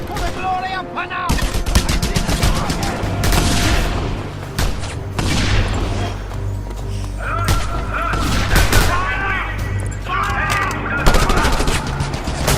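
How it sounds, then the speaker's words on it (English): Gunfire in Just Cause 2 on PC: loud, dense bursts of machine-gun and rifle fire with booming impacts, nearly continuous, with voices shouting amid the shooting. "Keep firing now!"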